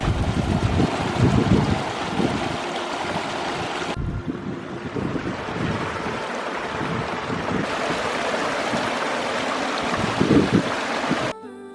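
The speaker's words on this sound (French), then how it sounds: "Et je vous laisse profiter du bruit de l'eau." Water flows and laps steadily at a lake in Connemara, Ireland, outdoors, with wind buffeting the microphone; a continuous rushing wash with a few brief changes in tone, no voices.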